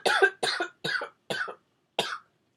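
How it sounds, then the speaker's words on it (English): Five sharp coughs in a row, close and loud, with short pauses between each one. "I start coughing really bad"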